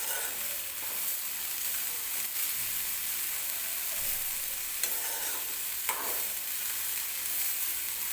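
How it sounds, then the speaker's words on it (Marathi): A masala corn cob roasts and is turned over heat, producing a steady, fairly loud sizzling hiss with occasional faint scrapes. "ते व्यवस्थित आपल्याला भाजून घ्यायचे आहेत"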